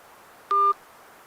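A single short telephone keypad beep sounds on a dialed call that fails to connect, a clean steady tone lasting about a quarter second over faint line hiss.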